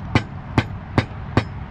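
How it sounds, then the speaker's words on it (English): Four evenly spaced hammer blows drive a nail while Ludowici Spanish clay roof tiles are laid, each strike a sharp close knock about 0.4 seconds apart, alone and with no talk. "The nail should be at hand when you're really good while you're hammering."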